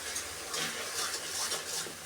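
Spice paste being sautéed in a pan for a chicken curry, a short burst of stirring and scraping over a soft sizzle, close and moderately loud, with no voices.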